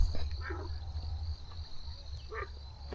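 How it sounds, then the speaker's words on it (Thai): Frogs calling at night near rural farmland, with a steady insect chorus. Two brief croaking bursts stand out over a constant low hum and a high, continuous cricket-like drone. "เสียงกบเสียงเขียด"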